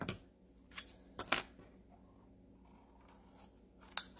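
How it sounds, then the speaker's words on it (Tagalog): Scissors cutting Christmas ribbon for a handmade ribbon flower: a handful of sharp, close snips spaced irregularly, separated by quiet stretches with no talking. "Pasensya na kayo sa gunting ko ha."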